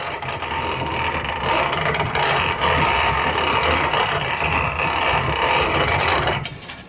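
A bean pod mill turning freely with metal grinding on metal, a steady loud rasping scrape with faint ratcheting texture that runs continuously and drops off at the end, with no talking.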